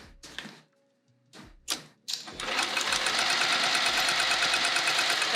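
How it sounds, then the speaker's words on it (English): A sewing machine running steadily as it stitches down the edges of a vinyl bag, after a few short handling clunks, with a close, even mechanical whirr that continues to the end. "let's sew these edges down."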